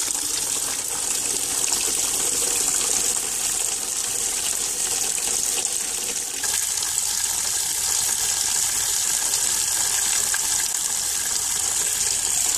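Tap water gushes steadily into a bucket being filled for an ALS ice bucket challenge, a continuous close, loud rushing and splashing with no talk over it.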